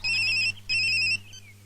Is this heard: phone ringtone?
yes